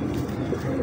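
A Kasuri pigeon coos low and soft, a brief throaty warble up close with no talking.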